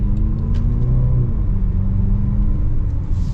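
A 2023 Range Rover Velar R-Dynamic S with a 2-liter engine accelerates, a steady loud low engine rumble with a rising drone heard from inside the car, no talking.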